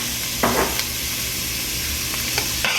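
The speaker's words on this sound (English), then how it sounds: "I'm going to stir that. And just let it saute." Beef stroganoff base sauteing in a frying pan, a steady sizzle throughout with a few short scrapes of a large spoon stirring, close up and moderately loud, no talking.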